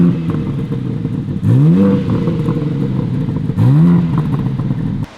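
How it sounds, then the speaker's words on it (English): A 2025 BMW M4 on its stock exhaust with the big factory muffler and black tips idles with a steady rumble, then gives two sharp revs that rise and fall back, close and loud. "So we got the stock exhaust."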